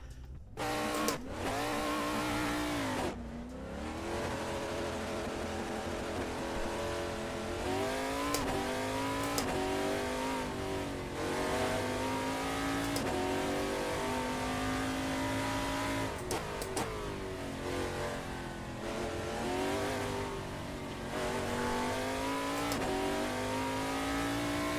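A race car lapping in the iRacing sim game, its engine droning loud and steady through climbing revs and gear changes for the whole stretch, with no one talking.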